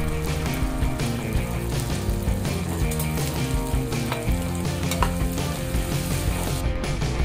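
Onion and spice paste frying in a pan for Punjabi-style rajma masala, a steady close sizzle running throughout with faint stirring and pan contact.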